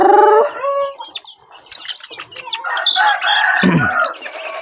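Free-range village chickens (ayam kampung) cluck and chatter close by, with a rooster-like crowing call at the start and a busy mix of overlapping clucks and squawks after.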